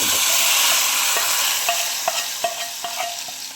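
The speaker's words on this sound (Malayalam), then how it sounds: "ചുവന്നുള്ളി മുളക് കൊണ്ട് കടുവ വറുക്കണം" Loud, close sizzling of shallots and chillies frying in hot oil, a dense hiss that eases slightly as sharp stirring clicks and taps come through.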